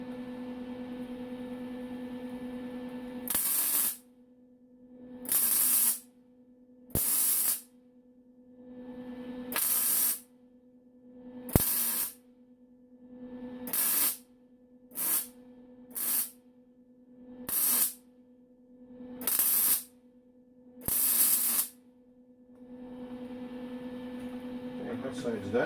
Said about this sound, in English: So I'll just finish welding her up.